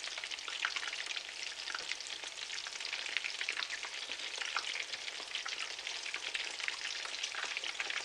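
Oil sizzles and crackles steadily and evenly throughout as mutton meatballs deep-fry, a close, continuous frying sound with no voices.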